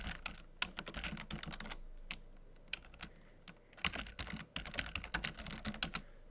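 Quiet, close clatter of fingers typing a command on a computer keyboard at a firewall gateway console, coming in uneven bursts of rapid keystrokes with short pauses and no speech.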